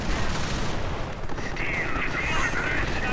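MG42 machine gun fire and artillery in a World War II strategy video game, dense continuous rattling bursts and rumbling blasts forming a loud, unbroken battle din.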